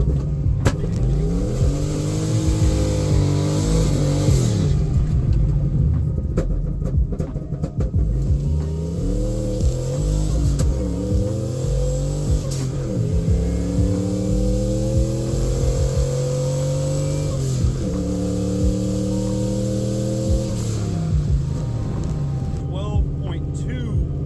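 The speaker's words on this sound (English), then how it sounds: "We took it to Rockingham Dragway to run the quarter mile" A car makes a quarter-mile pass at Rockingham Dragway, its engine revving hard through repeated upshifts in rising sweeps, close and loud, with a voice talking over the run.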